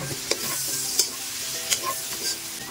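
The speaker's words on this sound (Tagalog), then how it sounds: "Igigisa ko ulit siya sa soy sauce para manuot yung lasa sa ating karne." Pork frying in soy sauce for adobo with coconut milk, a steady sizzle broken by occasional sharp scrapes and clinks of a spatula stirring the pan, up close with no voices.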